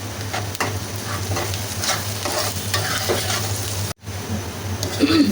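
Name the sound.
onion and garlic frying and being stirred in a pan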